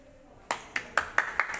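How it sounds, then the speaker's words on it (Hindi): At a Naikar Jayanti gathering, after a garland welcome for the local chief, about six sharp, evenly spaced claps ring out close by after a brief quiet lead-in, quickening slightly in rhythm. "जोरदार तालियां इनके लिए"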